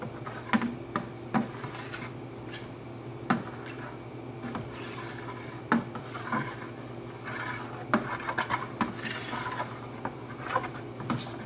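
Lye solution being gently stirred into oils for soap making, heard as close, repeated scraping and rubbing strokes against the container in an uneven rhythm, with no talking.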